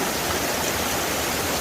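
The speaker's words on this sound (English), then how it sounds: "I'm standing in a creek and it's super slippery" A creek flows steadily close by, a dense even rush of water with no breaks and no voices.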